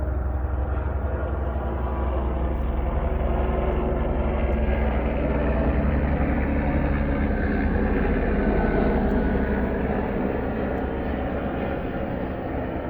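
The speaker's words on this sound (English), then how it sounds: "Helicopter going over." A helicopter passing overhead above a yard, a loud, steady engine and rotor roar that fills the whole stretch and swells slightly as it goes by.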